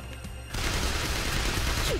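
Heavy rapid gunfire erupts after a quieter start, a dense sustained burst of shots mowing down zombies in School Girl Zombie Hunter, loud and continuous to the end.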